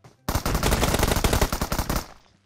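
Sustained automatic gunfire from PUBG Mobile, a dense rapid burst of rounds lasting about two seconds, loud and close, with no talking over it.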